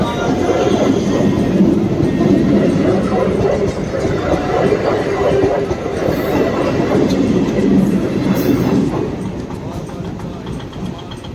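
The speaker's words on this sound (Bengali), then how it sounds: "ট্রেনটা জোর চলে যাচ্ছে" A train rushes past close by at speed, a steady loud rumble with rhythmic clatter of wheels on rails, easing slightly toward the end.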